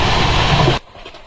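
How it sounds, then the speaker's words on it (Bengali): A moving train heard from on board gives a loud, steady rumbling roar that cuts off abruptly partway through, leaving a quieter background. "সবুজ প্রকৃতির বুক ছিঁড়ে ট্রেন এগিয়ে চলল তার নিজের গন্তব্যে নিজের গতিতে"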